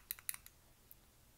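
The fire button on a Kamrytech AK-47 200W temperature-control vape mod is pressed in a quick burst of faint, sharp clicks, about four or five in under a second, followed by near silence.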